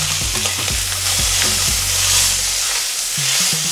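An entrecote steak sizzles steadily and loudly in a hot pan as it is flipped, with a few scraping, knocking contacts from the utensil near the start and again at the end.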